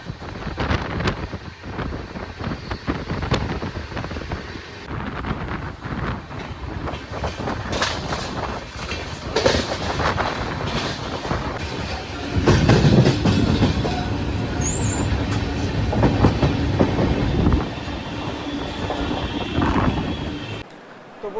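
Train running on rails on the Kolkata to Bengaluru route, heard from inside the carriage: a steady loud rumble with rattling and rhythmic clacks, and a surge in intensity partway through, continuing throughout.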